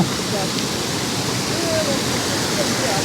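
Small waterfalls on the Bistrica mountain stream near Preddvor produce a steady, loud, broadband rush of falling water that fills the scene without letup.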